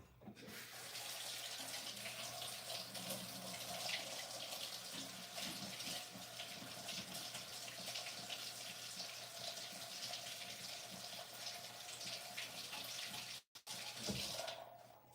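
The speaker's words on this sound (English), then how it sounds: "let me run some hot water on this and it'll come right off." Hot water runs from a kitchen tap in a steady, continuous gush, close by and fairly even, cutting off briefly near the end before starting again.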